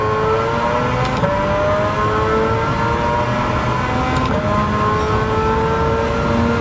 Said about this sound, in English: Sounds like a World Rally car, looks like a Cappuccino.